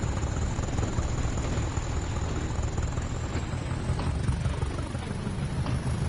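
A BR Class 20 diesel locomotive in Train Sim World 5 on the Tees Valley Line, its engine giving a continuous, loud, throbbing chopper-like drone with a rough mechanical texture and no voices.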